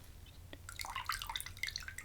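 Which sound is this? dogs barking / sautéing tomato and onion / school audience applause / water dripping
water dripping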